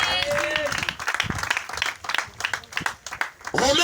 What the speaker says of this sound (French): on va acclamer une grande dame qui va prendre sa place